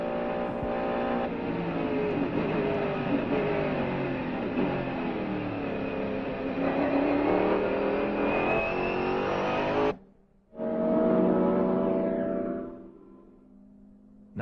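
Mercedes CLR race car engine in the 1999 Le Mans PS2 game screams loudly at high revs through gear changes for about ten seconds, drops out abruptly, then roars back before fading away.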